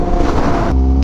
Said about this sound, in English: The bike is still idling a little bit high